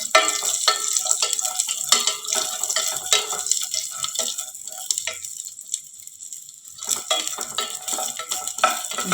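Ingredients frying in a pan for wheat payasa, a bright continuous sizzle with frequent spoon scrapes and clinks against the pan, close and fairly loud, easing briefly midway before resuming.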